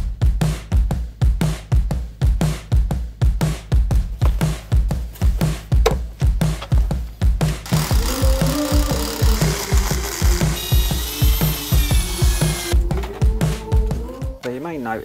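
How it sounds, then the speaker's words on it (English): Makita combi drill boring into pebble-dash brickwork, a steady run of loud, evenly spaced hammering pulses close to the microphone, later joined by a rising whine as the bit works deeper. "Notice that I'm using this Makita combi drill to drill into the brickwork."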